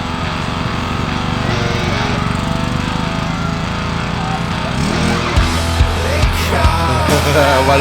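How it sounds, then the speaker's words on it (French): A small engine running rough from a carburetor problem, with a loud continuous buzzing drone that turns uneven and sputtering toward the end, where faint voices come in. "elle a un problème de carbu là"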